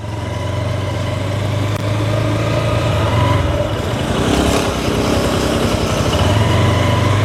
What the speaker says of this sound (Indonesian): Langsung aja kita dengarkan suara dari knalpot SC Master 200.